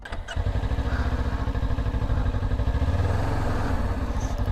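A motorcycle engine runs steadily and loudly throughout during parking lot practice drills, its throbbing rumble holding a fairly constant pitch with no talk over it.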